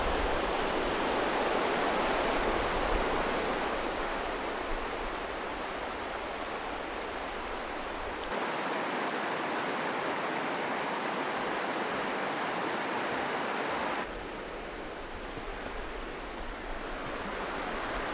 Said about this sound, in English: Made it to the river.